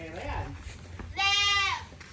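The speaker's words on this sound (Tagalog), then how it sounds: "may kambing din pala si idol dito" Goats bleat on a farm where water buffalo are kept: one long, wavering, nasal bleat rings out clearly after a stretch of quieter animal noise, with people talking nearby.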